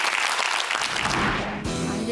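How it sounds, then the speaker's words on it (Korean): A studio audience on a Korean television quiz show applauds in a brief, loud, continuous burst that tails off near the end. "자, 박수 한번 부탁드리겠습니다."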